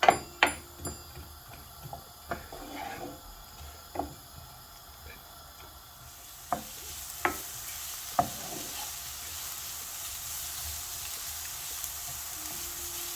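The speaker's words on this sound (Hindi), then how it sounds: "बस इसको हम हल्का सा ही फ्राई करेंगे, इसको हमने कोई कलर चेंज नहीं करना है।" Chopped ingredients fry lightly in a pan for a samosa chicken roll filling, a steady soft sizzle with sharp spoon taps and scrapes against the pan, strongest early on, alone without talk.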